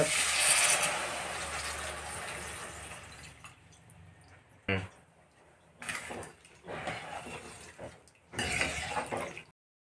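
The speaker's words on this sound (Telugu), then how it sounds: "సాంబార్ పౌడర్, చింతపండు రసం పోసుకోవాలి" Tamarind juice is poured into a pot of wedding-style sambar with bottle gourd and spices, a soft splashing pour at first that fades into scattered drips and small liquid splashes.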